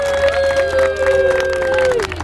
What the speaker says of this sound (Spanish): Aplauso para la señorita